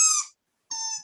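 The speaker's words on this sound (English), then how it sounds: "That's my dog trying to get attention." A dog whimpers for attention indoors, giving two thin, high-pitched whines separated by a short silent pause, close and fairly soft, with no talking.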